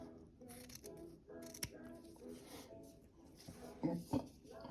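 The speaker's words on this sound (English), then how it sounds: "So just going to go ahead and cut the ends so that it looks professional." Scissors snip through ribbon ends being trimmed for an Easter basket, a few sharp crisp cuts close by amid light handling noise, with a person speaking softly at times.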